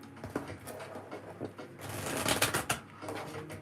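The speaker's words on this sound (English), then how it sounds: "Give it a good shuffle." A tarot deck shuffled by hand, with a run of crisp riffling card flutters that builds to a denser, louder burst in the middle before easing off, close up with no talking.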